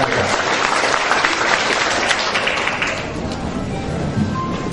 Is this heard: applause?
yes